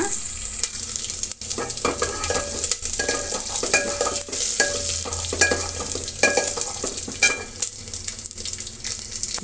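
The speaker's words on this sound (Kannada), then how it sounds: "ಮೆಣಸು ಒಂದು ಅರ್ಧ ಸ್ಪೂನಷ್ಟು ಜೀರಿಗೆ ಒಂದು ಮೂರು ಒಣಮೆಣಸಿನಕಾಯಿ ಇಷ್ಟನ್ನು ನಾನು ಈಗ ಪಾತ್ರೆಗೆ ಹಾಕ್ತಾ ಇದ್ದೀನಿ ಇಷ್ಟನ್ನು ಫ್ರೈ ಮಾಡೋಣ" Black pepper, half a spoon of cumin and three dried red chillies fry in a pan for rasam, a steady crackling sizzle punctuated by repeated scraping knocks of a stirring spoon, with no talk.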